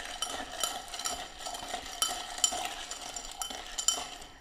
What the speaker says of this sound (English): put some ice there, give it another stir.